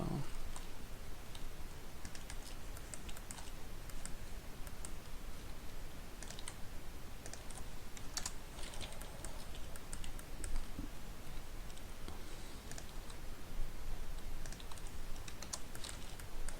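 Rapid, continuous keystrokes on a computer keyboard patter closely and steadily throughout, with occasional louder clicks standing out from the soft hiss.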